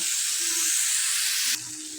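Tomato frying in a pan for matar paneer makes a close, even hiss that drops suddenly in level near the end, with no voices.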